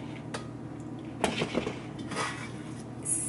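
Peach cookie mixture is scraped and dropped into a skillet pan, with a few close metallic clinks and knocks of a utensil against the pan in a quiet kitchen.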